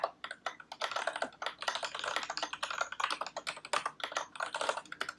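Steady, rapid typing on a computer keyboard with irregular bursts of key clicks, fairly quiet and close, with no voices.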